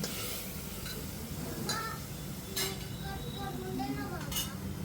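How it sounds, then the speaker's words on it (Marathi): Mutton trotters being stirred in a cooking pot for paya soup, with scattered clinks and scrapes of utensil against metal over steady kitchen background noise. "आता इथं आपल्याला पाय टाकून घ्यायचे आहे आणि पायांना सुद्धा व्यवस्थित मिक्स करून घ्यायचं आहे"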